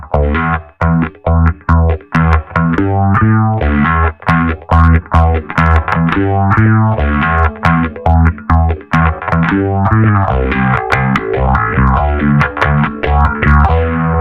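Guitar played through a captured pedal tone in the Anagram, with heavy distortion, a loud, close run of sustained driven chords and notes, choppy stabs at first, then ringing phrases.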